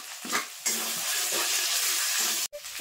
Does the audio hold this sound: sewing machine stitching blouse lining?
no